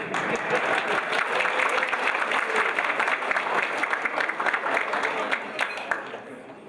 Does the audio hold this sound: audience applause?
yes